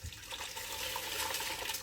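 Stock poured over rice in the tray of a Ninja Speedi cooker, a steady liquid splash and trickle heard close up and alone for under two seconds.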